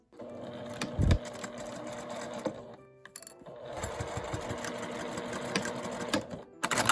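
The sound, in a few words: sewing machine stitching a 5 cm gusset on a quilted mini pouch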